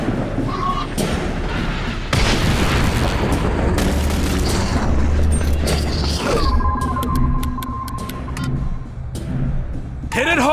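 Heavy gunfire and booming blasts from the game The Bureau: XCOM Declassified fill a dense, loud battle, with mechanical clanks and a rising electronic whine later; voices call out over the din.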